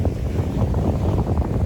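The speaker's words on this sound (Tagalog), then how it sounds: "Lakas ng hangin guys." Strong wind roars steadily at an island shoreline during a fishing outing at Grande Island, Subic, a loud, continuous low rumble of gusts buffeting the microphone with no voices.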